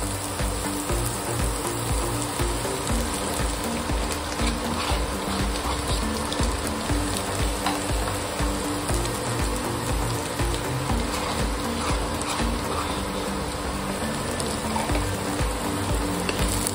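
Dill and fenugreek greens sautéing with cooked onion in a pan, giving a steady, close, continuous sizzle and crackle with faint stirring, unbroken for the whole stretch and with no voices.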